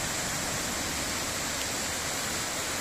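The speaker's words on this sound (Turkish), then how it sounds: "Yalamık Şelalesi." Rushing water of Yalamık waterfall pours in a steady, dense broadband roar, close and continuous, with no voices over it.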